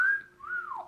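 Whistling in a song: a clear melodic whistle holds one pitch, dips briefly, then rises into a second gliding phrase that falls away, prominent and alone.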